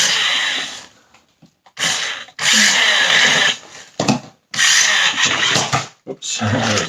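A Grave Digger Monster Jam RC monster truck whines loudly as its electric motor revs in bursts, surging and cutting out repeatedly, close up, with excited talk in between.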